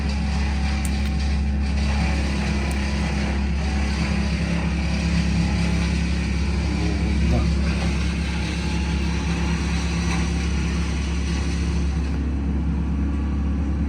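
A machine chews through fallen tree branches cleared after a typhoon before they are loaded onto a truck, giving a constant heavy mechanical hum and roar with a strong low drone, close and continuous.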